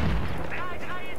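A gunshot in the military shooter Battlefield 3 lands as a single heavy, booming blast at the very start, then decays into rumbling battle noise and a faint whine.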